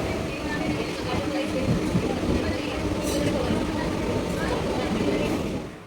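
Riding a Mumbai local train, a steady rumbling rattle of the carriage continues under people talking before easing off at the end.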